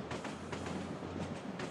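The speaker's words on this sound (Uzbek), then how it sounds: "Biz hozir poyezdda ketyapmiz." A train rolls along the rails, heard from inside a carriage: a steady low rumble with evenly spaced wheel clacks repeating close by and no voices.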